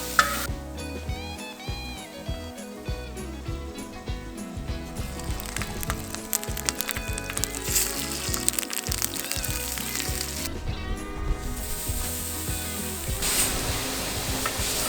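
Steak, mushrooms and mixed peppers fry at a campsite, a close, steady sizzle and crackle with stirring scrapes, gusts of wind breaking through at times.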